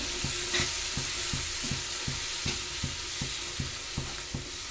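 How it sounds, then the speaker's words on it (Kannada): Bisi bele bath spice powder frying in a pan, a constant sizzle broken by regular scraping strokes of a spoon stirring at an even rhythm, close up and with no voices. "ಈಗ ಬಿಸಿ ಬಾತ್ ಪೌಡ್ರನ್ನ ಸೇರಿಸ್ಕೊಡೋಣ ಸ್ವಲ್ಪ ಫ್ರೈ ಮಾಡ್ಕೊಳ್ಳೋಣ"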